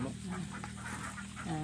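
Ducks quacking on a farm, a few harsh calls close by, rising over steady background noise.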